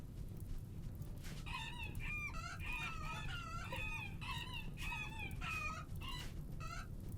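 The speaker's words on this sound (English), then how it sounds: "Why are you chickens so dumb that you walk into a fire?" Chickens in the video game RimWorld cluck and crow in a steady run of short, rising calls over a constant low background hum, with no talk.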